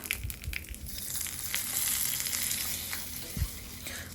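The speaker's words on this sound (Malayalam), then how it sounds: "പിന്നെ കുറച്ച് കറിവേപ്പില. എന്നിട്ട് കറി നമുക്ക് താളിക്കാം." Dried red chillies and curry leaves crackle and sizzle in hot oil for a ripe mango and yoghurt curry, with a steady frying hiss, sharp spattering pops and a stir or two. There is no speech.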